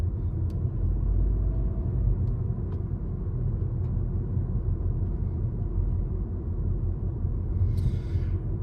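Steady low engine and road rumble from inside a car driving at about 40 on a public road during a driving test, continuous and even throughout with a brief higher hiss near the end.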